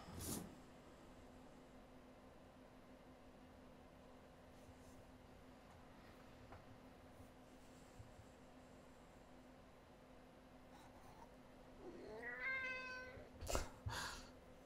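A pet cat meows close by near the end, a short drawn-out cry followed by a sharp thump, after a long stretch of quiet background hiss.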